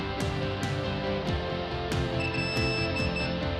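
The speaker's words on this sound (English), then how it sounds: "When the remote controller starts beeping" DJI Phantom 4 Pro remote controller beeping while linking to the aircraft: sharp, evenly spaced short beeps repeating about every 0.6 seconds, with a faint steady tone joining in near the end.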